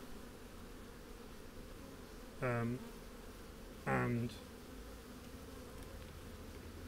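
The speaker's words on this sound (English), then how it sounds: "So these bees that are around my mouth are the guard bees." Guard bees buzz around a beekeeper's face, steady faint hum with close passes, while two brief spoken interjections cut in over the drone.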